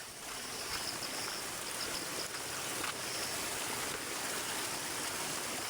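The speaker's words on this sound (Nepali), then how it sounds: "यी रोटै बगिरहेको पानी अलि पानी धेरै भएछ यता" A steady rush of flowing stream water fills the scene continuously, a constant broadband babble with no voices.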